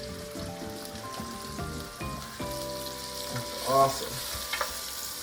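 Onions sizzling in a hot pan while being stirred, with scraping and clinks from the utensil over a soft steady fry, close by; a voice speaks briefly.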